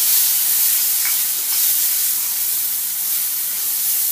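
Tomatoes tipped into a hot pan of spiced pumpkin sabzi with garam masala give a loud, steady hiss and sizzle that carries on alone without fading.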